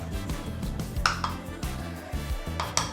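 A metal cooking pan holding a just-finished mac and cheese sauce clanks down onto a kitchen counter, with a few sharp clinks and knocks of cookware standing out over a steady background hum.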